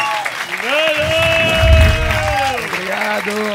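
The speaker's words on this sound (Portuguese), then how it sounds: "Aplausos para Nando Viana, senhoras e senhores!" Audience applause for a stand-up comedian, steady clapping under a voice and shouting, with a booming swell in the middle.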